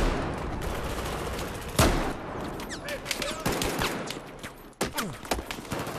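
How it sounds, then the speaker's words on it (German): Gunfire in Battlefield 4 multiplayer Domination mode: a sharp, loud shot followed by rapid bursts and scattered single shots from several directions, with a few heavy booms. "da werde ich von überall beschossen"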